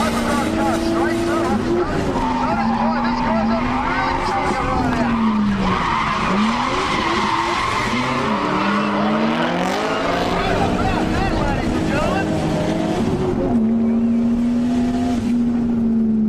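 A Nissan Silvia Sil80 drift car with an RB25 engine drifts at a Drift Nats round, its engine note rising and falling through sustained tire skids, loud and close, with a voice talking over it.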